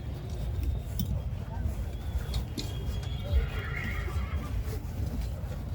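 A Marwari horse at the Pushkar fair neighs amid a busy outdoor crowd, the whinny rising over steady background chatter and occasional clip-clop, with nearby voices talking throughout.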